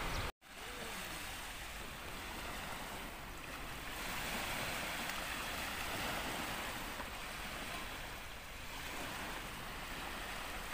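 Mediterranean sea waves washing onto a quiet beach, a soft continuous surf wash that swells and recedes, with a brief knock at the start.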